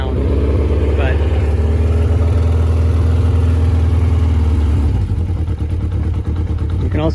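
A Kawasaki KZ1000R motorcycle with drilled exhaust end caps idles steadily and close by, a low, slightly uneven lumpy rumble that holds throughout while a person talks over it.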